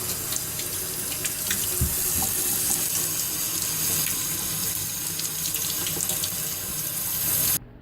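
Tap water running steadily into a sink while potatoes are scrubbed by hand, a continuous close splashing rush that cuts off abruptly at the end.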